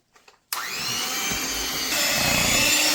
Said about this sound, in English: I'm going to mix it up with my mixer